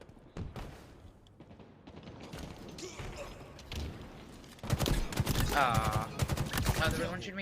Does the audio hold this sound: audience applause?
no